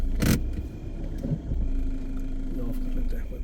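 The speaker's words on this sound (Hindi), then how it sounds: "गाड़ी को ऑन रखते हैं" Force Gurkha 4x4 SUV idling on a village road between jungle and mountains, a steady low engine drone with a faint steady hum above it, overlaid by wind buffeting and a sharp knock near the start.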